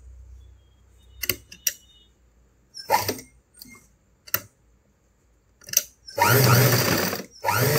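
A sewing machine stitches a seam on a boat neck, princess cut blouse, starting with short stop-start bursts of needle clatter and finishing with a longer, loud continuous run, close to the listener.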